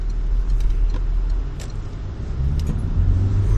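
A car driving along a city street in Gliwice, Poland, with a steady low engine and road rumble close by throughout, plus faint passing traffic noise and occasional light rattles.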